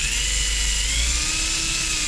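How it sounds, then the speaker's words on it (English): A handheld drill polishes a guitar fretboard and its fancy inlays during a refret, giving a steady, loud high-pitched whine with an even hum throughout and no talking. "The drill's going to be looking down at it clockwise."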